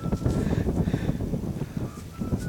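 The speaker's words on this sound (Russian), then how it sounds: "Ветер страшный, я не знаю, как меня будет слышно." Strong wind rumbling against a microphone outdoors in a field during metal-detecting, a moderately loud, fluttering low roar with uneven gusts and a faint high electronic tone drifting in.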